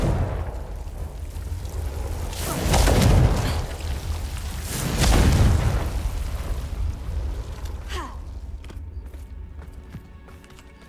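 Confringo blasting spell in the Hogwarts Legacy video game: two heavy booming explosions about two seconds apart, each swelling and fading over a constant rumbling game background, with no talking.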